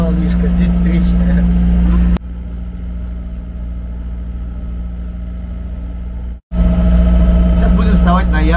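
A sailboat's motor runs steadily into a headwind and choppy waves off Lanzarote, near Marina Rubicon. A loud, constant mid-pitched drone is joined by wind noise, with a sharp cut partway through before the motor comes back.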